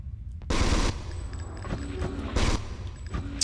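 Rapid video game gunfire from the PS1 title Alien Resurrection, with two loud broadband bursts of automatic fire and a few lighter shots in between, set against a low rumbling ambience.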